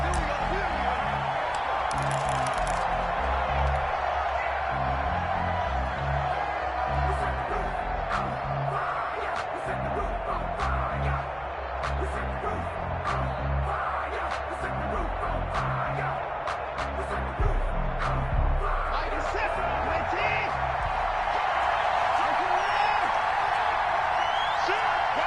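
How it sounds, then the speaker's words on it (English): An NFL stadium crowd before a New York Giants versus Washington game makes a sustained, distant roar of cheering and whooping, with a commentator talking over it throughout. "This crowd is ready as their guys get set to match up between the New York Giants and the Washington football team."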